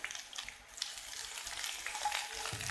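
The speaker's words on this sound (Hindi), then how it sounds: "शिमला मिर्च 1 जूलियन, 1 गाजर जूलियन, 4 से 5 हरी मिर्चें जूलियन, और इसको हम करेंगे सौते।" Julienned capsicum, carrot and green chillies sautéing in a hot pan, giving a steady close sizzle and frying hiss with light stirring scrapes, and no talking.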